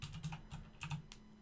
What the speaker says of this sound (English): Exiting GDB is done by typing quit